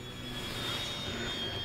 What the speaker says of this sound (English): What a cool little plane on this evening to fly this.